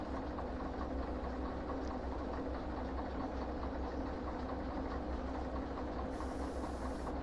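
A locomotive rolls along in the train game Derail Valley, a continuous low rumble with steady hiss and rhythmic rail clatter, heard alone without speech for the whole stretch.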